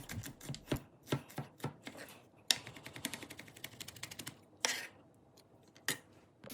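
Knife chopping garlic finely on a cutting board for beef bourguignon, a quiet, close series of sharp taps in irregular bursts, some quick and rapid, others spaced apart.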